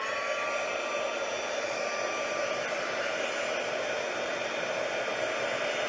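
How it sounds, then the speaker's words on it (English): A heat tool blows a steady, close, even whoosh of hot air while melting embossing powder on an Easter card. The whoosh holds unbroken at one level with no talk. "now I'm going to bring in the heat tool, so I'm going to be making a little bit of noise"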